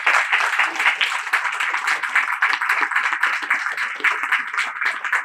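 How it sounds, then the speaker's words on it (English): An audience at a startup event claps continuously, with dense, lively clapping held at a steady, fairly loud level from start to finish. "Can I request all of you to please at least stand up and acknowledge the applause which will be coming"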